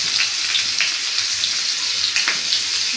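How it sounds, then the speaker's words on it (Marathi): Bangda mackerel frying in hot oil on a low gas flame, giving a steady close hiss and crackle with faint scattered pops throughout and no voices. "गॅस स्लो करूया आणि बांगड्याकडे फ्राय करायला ठेवूया."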